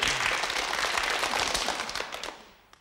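Audience applause at a 1981 television cabaret show, a dense wash of clapping from a crowd that fades out over a few seconds.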